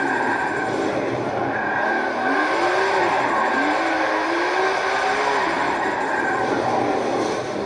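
Tires squeal in long rising and falling sweeps over a steady engine drone as a car drifts through a sweeping left in an Xbox One racing game, loud and continuous with no talk.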